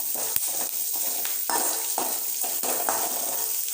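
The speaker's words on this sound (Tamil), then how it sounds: "சின்ன வெங்காயமும் நல்லா ப்ரௌன் கலர் வர வரைக்கும் நல்லா வதக்கி எடுக்கணும்." Small onions sauté in a pan for sundakkai chutney with a steady, close sizzle. Short scraping stirs of a spatula break through it at regular intervals.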